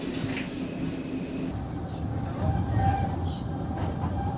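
A Zurich number 4 bus that rides much like a tram hums and rattles steadily from inside while moving, with muffled mechanical rumble and occasional rises in engine noise and faint voices in the background.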